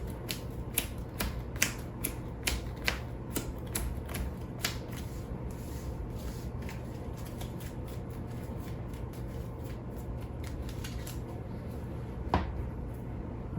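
Playing cards for the board game Heat are shuffled with a series of quick riffling clicks and snaps near the mic, loudest at the start and thinning out, with one sharp card snap near the end.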